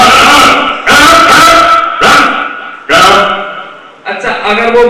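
A person imitates a dog, giving four loud, close barking yelps in a row, each short and sharp with brief gaps, the last one higher and whinier.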